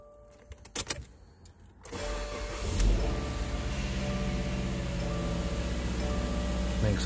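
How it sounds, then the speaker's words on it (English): A 2017 Subaru Outback 2.5i engine starting up, with a brief whir and cranking before the engine catches into a steady, close idle hum that holds to the end. "Makes all the nice Subaru startup noises."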